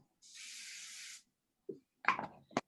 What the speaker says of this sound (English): So you can take either hairspray or this pastel fixative, and you can spray that base.